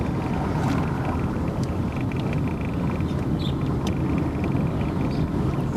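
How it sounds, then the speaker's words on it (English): A car rolls over old brick streets in East Wilmette, heard from inside as a steady loud rumble of road and wind noise with faint scattered knocks from the bumpy surface. "The bumpiness of the ride, once again, is due to the fact that the streets are brick."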